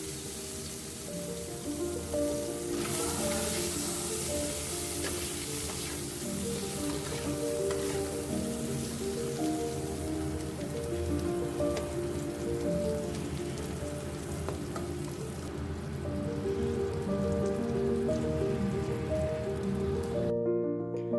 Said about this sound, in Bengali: তারপর কড়াইয়ে সেই মাছ ভাজার তেলটাতেই বেগুনগুলোকে ভেজে নিতে হবে।